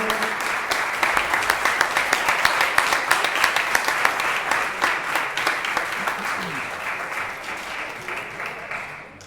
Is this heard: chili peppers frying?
no